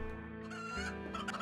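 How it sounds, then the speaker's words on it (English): Chickens clucking in the video game RimWorld, a short burst of close, throaty fowl calls over a soft game music bed. "Hide from the chickens! Hide for your lives!"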